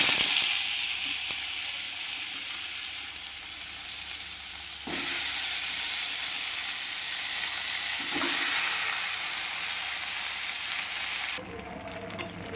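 Cauliflower and other vegetables dropped into a wok of shallow oil with panch phoron, frying in a loud, steady sizzle with abrupt surges as more pieces go in, then cutting back sharply near the end.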